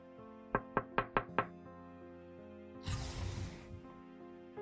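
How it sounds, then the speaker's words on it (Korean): Five quick, evenly spaced knocks on a window ring out close and crisp, followed after a pause by a brief hissing rush of noise; no one speaks. "나는 창문을 두드리며 인사해오는 젊은 부인에게 인사를 했다"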